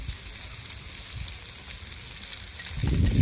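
Small onions frying in a pan for Pallipalayam chicken, a soft, steady sizzle with low crackles and a brief louder stir near the end.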